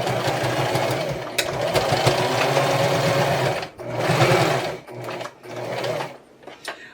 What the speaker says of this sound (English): So I'm going to continue and sewing this